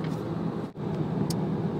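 Rental car driving on a road in Queensland, Australia, heard from inside as a steady low road and engine rumble with a brief dip partway through and no talk.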